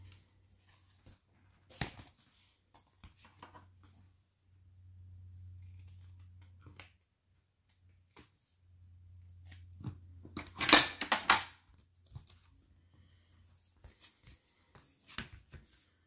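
Scissors snip and crunch through a sticker stuck to the blades, sounding as a few close, scattered cuts, then a denser burst of crisp clipping in the middle, all set over a low steady hum.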